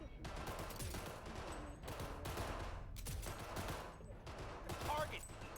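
Rapid bursts of gunfire from shooting at targets in the NoPixel GTA video game, repeating in dense volleys with brief gaps and a muffled quality.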